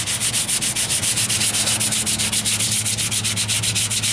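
Rapid, steady back-and-forth sanding on the repaired driver's side wheel arch of a 1998 Ford Ranger, a loud, close rhythmic rasping with a constant low hum underneath and no talk.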